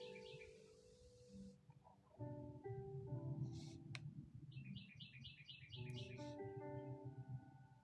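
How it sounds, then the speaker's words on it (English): Chirping from baby birds outside, with bright, repeated short tweets scattered over a steady mid-level background of other calls and noise, fairly near and continuing without talk. "Y'all hear my birds chirping?"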